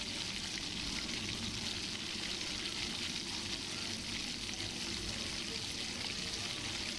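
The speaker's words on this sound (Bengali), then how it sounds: "তো এইগুলোকে মা দিয়ে ভালো করে কষিয়ে নিচ্ছে।" Spice paste with green chillies and bay leaves frying and being stirred in a pan for a vegetarian soybean curry, a steady close sizzle with scraping of the spoon throughout, no talking.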